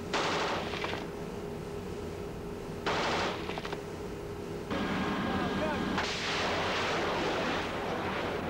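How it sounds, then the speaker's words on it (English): Light machine gun fire on a naval ship at sea, heard as bursts of rapid shots in several separated volleys, loud and close with a rumbling background between them. "And also the LMGs were put to good use."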